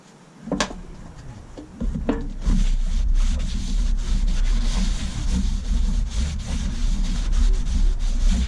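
A cloth or pad rubbed across a hard surface before foaming a core repair, a steady close scraping rub that runs continuously after a couple of brief initial knocks, with no talking.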